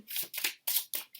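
A tarot deck is shuffled in several quick, crisp riffling bursts with short gaps between them, close and fairly loud, and no one speaks.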